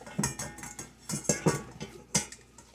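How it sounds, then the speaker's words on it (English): A utensil scrapes tuna into a bowl with a series of short, close scratches and clinks, several quick strokes coming in an uneven rhythm. "I'm just going to scrape my tuna"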